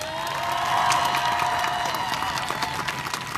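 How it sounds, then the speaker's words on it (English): Applause and cheering from a crowd at a Black Lives Matter protest honoring Daunte Wright at the Rhode Island State House, steady dense clapping with shouts rising over it throughout. "Clap it up one more time. Very good. Keep it clapping."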